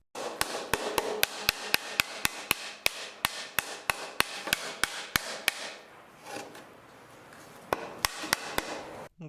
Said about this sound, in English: we're going to use a rubber mallet and simply just tap it in